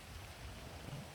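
Steady, faint rain hisses without a break in a GTA V roleplay scene. The patter is soft and even, with no distinct drops standing out.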